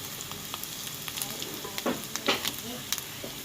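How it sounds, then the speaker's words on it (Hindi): Onions fry in a pan over low to medium flame with a continuous sizzle, marked by a few sharper crackles and stirring scrapes. It is close and of moderate loudness, with no talking. "ये देखें कितना अच्छा जो प्याज हमारा फ्राई हो रहा है।"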